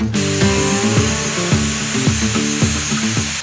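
A handheld power grinder shaves metal from the bottom of an antweight combat robot's spinning blade while it is balanced, giving a steady, loud whine close by with rhythmic dips and bites as the tool is pressed and eased.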